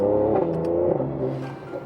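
A 2018 Mercedes-AMG C43 with newly replaced spark plugs and coils accelerates hard, its engine rising in a loud, close, harmonic roar that holds for under two seconds with no talking.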